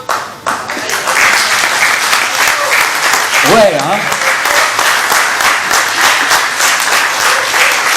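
A community audience at a closing solidarity event in Auboué applauds a child with lively, sustained clapping. Someone briefly speaks near the start, and a warbling voice or whistle cuts through the applause midway.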